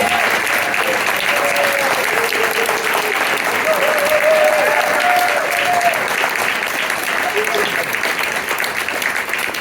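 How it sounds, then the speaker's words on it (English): An audience applauds at the close of a panel discussion, a loud, sustained wash of clapping that holds steady for nearly ten seconds before easing slightly, with a voice faintly heard beneath it. "Let's give it a round of applause"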